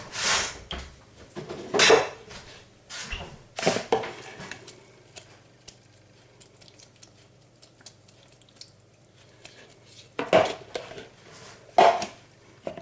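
Bowls and dishes clatter and clink in scattered bursts while making a no-bake cheesecake, with quieter stretches of faint rummaging between the louder knocks.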